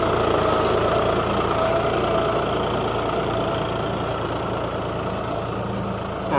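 A turbocharged John Deere 5055E tractor with a 12x12 power reverser transmission runs steadily, a close, loud, continuous diesel drone with a low knocking rumble that stays even throughout, no voices.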